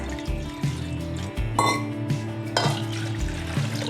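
Water pours and splashes in a steady stream into curd, with light clinks of a vessel and container knocks through it, close and fairly loud.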